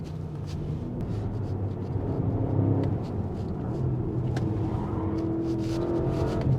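A Porsche Panamera GTS engine revs under throttle, holding a steady, fairly loud droning note with layered harmonics and small swells as the electronics hold it back, with no talk over it.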